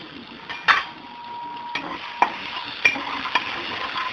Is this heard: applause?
no